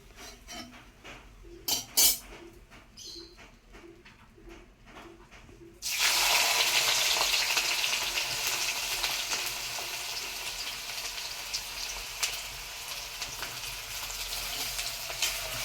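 Sliced onions fry in hot oil for ghee rice, starting with a few soft clicks and knocks. A steady, loud sizzling hiss then takes over and continues to the end.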